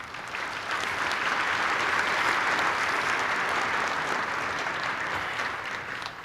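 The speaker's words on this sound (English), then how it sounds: "Round of applause for our sponsors." A large conference audience at a seating symposium opening gives a round of applause for the sponsors. The dense, even clapping fills the room and holds steady for about six seconds before easing slightly.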